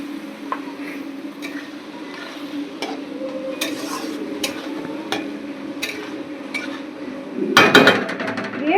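Spices with water sautéing in a pan for a Bengali fish curry, a soft steady sizzle with occasional stirring clicks, ending in a brief louder scrape and clatter of a lid or utensil.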